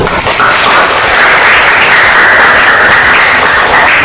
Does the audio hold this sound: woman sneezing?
no